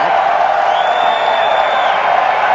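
A large golf gallery of over 5,000 at the US Open roars and cheers in a sustained, broad wash of crowd noise, steady and fairly loud for the whole moment.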